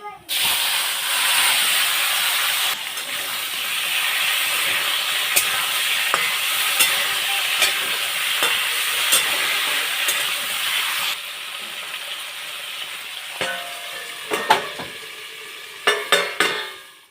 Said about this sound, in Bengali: কলাটা ভাজতে দিয়ে